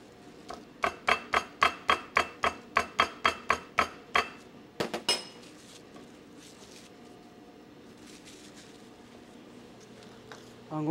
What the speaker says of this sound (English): The chef preps a piece of foie gras by flattening it slightly in plastic wrap.